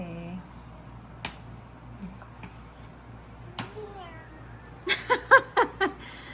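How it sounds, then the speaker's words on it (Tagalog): A cat meows repeatedly, a rapid string of five or six short, clear meows near the end after a few faint earlier calls, with quiet room noise and light clatter in the background. "Pusa yata ito. Meow ng meow."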